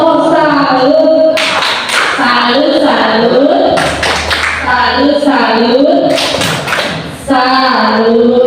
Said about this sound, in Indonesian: Kita kasih tepuk salut ya.